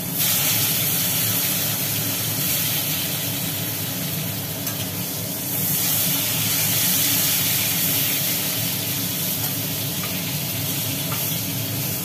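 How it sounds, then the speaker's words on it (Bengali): Slit pointed gourds (potol) frying in hot oil left from frying potatoes, a continuous dense sizzle and crackle with faint stirring scrapes, steady and close throughout. "এইবার এই তেলেতেই চেরা পটলগুলো দিয়ে দেওয়া হলো।"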